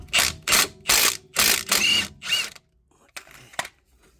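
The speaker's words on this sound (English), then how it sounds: "Now let's take a 19, remove this off the strut." A power tool spins a 19 mm nut off the front strut of a 2003-2007 Infiniti G35 in about six loud, close bursts, each separated by a short pause, then fainter clicks as the tool trails off.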